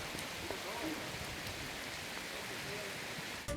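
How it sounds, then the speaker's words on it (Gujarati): Rain falls on the villages around Savarkundla in Gujarat as a steady, even hiss of drops that lasts throughout, with no clear voices over it. "સાવરકુંડલા અને આસપાસના ગામડાઓ વરસાદથી ભીંજાયા"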